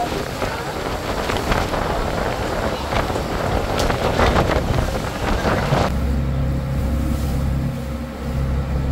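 A launch boat cruises on the Nagarjuna Sagar reservoir on the Krishna river, a steady engine drone mixed with heavy wind buffeting that gives way to a lower, even hum.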